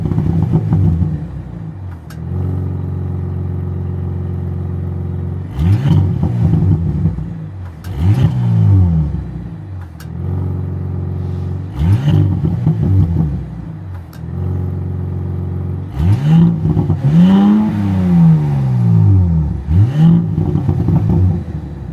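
Engine of a 2025 Audi S5 revs repeatedly, a series of rising and falling blips separated by steady idle, close and loud with no voices.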